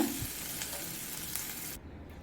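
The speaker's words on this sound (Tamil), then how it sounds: "ஹை ஃப்ளேமில் வச்சு ரெண்டு மூணு நிமிஷம் ஃப்ரை பண்ணால் போதும்" Capsicum frying over a high flame in a pan, a faint steady sizzle with soft stirring scrapes that cuts off abruptly near the end.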